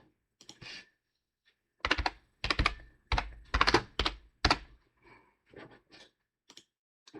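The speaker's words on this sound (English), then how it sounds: "Typing with one hand." One-handed typing on a computer keyboard, a series of close, uneven clacking keystroke bursts in a quiet room with brief pauses between clusters.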